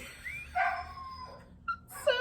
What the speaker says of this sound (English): we have our champion puppy yodeler joining us again